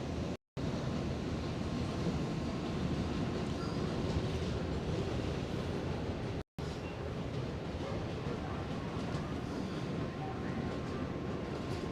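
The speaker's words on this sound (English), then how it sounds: "7 trains pass pretty often, especially if you take them from the very last stop, which is Main Street." A New York City 7 subway train runs across Queens, its steady loud rumble and wheel noise filling the whole stretch from inside the car, with two brief dropouts in the sound.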